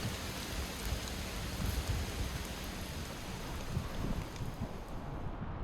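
Light drizzle falls in Baxter State Park, Maine, a soft, even hiss of rain that stays steady and fairly faint throughout, with no voices.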